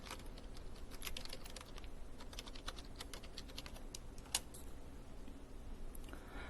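Computer keyboard typing while searching Google Maps for a meeting place, with quick light keystrokes in uneven clusters and one sharper click, close but quiet over a steady background hiss.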